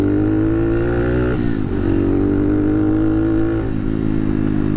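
Honda Monkey motorcycle fitted with an aftermarket Takegawa exhaust, running close by with a steady, deep, beefy engine drone that shifts pitch slightly as the revs rise and settle, with no talking.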